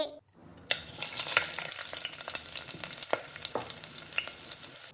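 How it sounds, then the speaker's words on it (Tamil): A ladle stirs tomatoes and other cooking food in a sizzling pan, giving soft scraping sounds and a few sharp clinks over steady frying, close by, with no voices. "ஒரு கரண்டிய வச்சு எல்லாத்தையும் நல்லா கிண்டி விடு"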